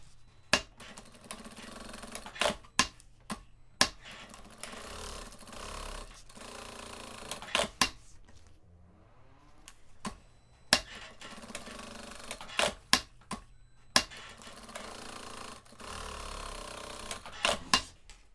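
Sewing machine stitching fabric panels for a cube-shaped toiletry bag with dividers, running in short bursts separated by pauses, with sharp clicks and knocks between runs; no voices.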